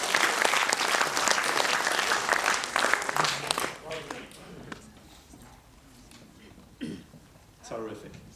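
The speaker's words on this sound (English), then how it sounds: "Give her a round of applause for coming down to the stage" Audience applause for a volunteer coming down to the stage at a live show, loud dense clapping for about four seconds that tapers off, followed by footsteps and brief talking on stage.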